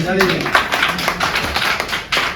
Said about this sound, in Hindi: मुझे तालियां बजा के